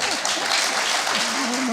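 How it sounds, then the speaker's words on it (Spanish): An audience at a public talk by a writer breaks into warm, dense applause, close and sustained, while a voice speaks over the clapping. "No me aplaudan tanto porque confieso que ahora es más difícil."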